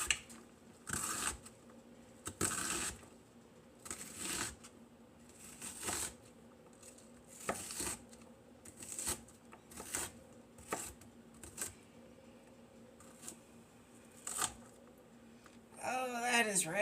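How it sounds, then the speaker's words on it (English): Kitchen knife dicing a grocery-store onion on a cutting board: a series of crisp, close chopping taps in irregular bursts, fairly quiet, with a brief voice near the end. "We're just going to do a small dice on it."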